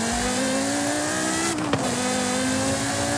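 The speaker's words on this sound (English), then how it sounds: "Now the Porsche Carrera GT in Forza Horizon 5" Porsche Carrera GT V10 engine in Forza Horizon 5, a steady low-pitched drone held at constant revs, with a brief tire squeal or shift blip partway through and no one talking.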